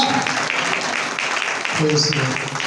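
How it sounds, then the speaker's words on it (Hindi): A church congregation at a Christmas gathering applauds in a dense, steady burst, with a voice speaking over the clapping. "जोरदार तालियां बजाइए।"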